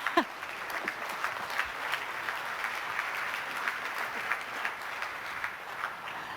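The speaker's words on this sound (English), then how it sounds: "People are applauding." Applause from a room of people in ESA mission control as a Mars-bound trace gas orbiter is acquired, a steady patter of many hands with a few sharper claps, moderately distant and without talk.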